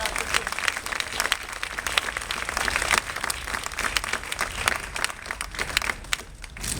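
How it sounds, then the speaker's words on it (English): Crowd applauding at a mayoral concession event where Bill Thompson endorses Bill de Blasio, steady close clapping with crisp individual claps, continuing without pause. "we applaud him and we congratulate him for that"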